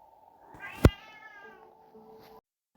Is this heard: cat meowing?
yes